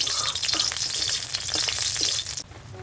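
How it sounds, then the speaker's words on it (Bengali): Four or five green chillies fry in hot oil in a wok, making a dense, close, crackling sizzle that runs steadily and then cuts off sharply near the end. "কড়ার মধ্যে আমি 4-5টা লঙ্কা দিয়ে দিলাম, লঙ্কাটা ভেজে নেব"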